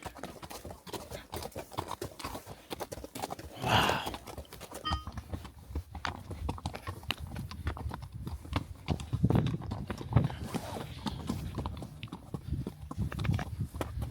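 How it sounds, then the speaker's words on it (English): An Icelandic horse walks steadily outdoors, its hooves clip-clopping in a continuous uneven rhythm at moderate distance, with faint ambient noise and a few brief sounds around the steps. "So it's the smallest horse in the world."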